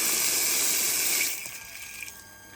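Water gushes hard from a tap fed by a pump at strong pressure, a loud steady rush that cuts off abruptly partway through, leaving a quiet drip-like tail.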